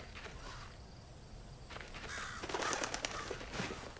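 A bird in the video game Hello Neighbor 2 calls a few times, cawing and cooing against a low background hum, with sharper bursts toward the end.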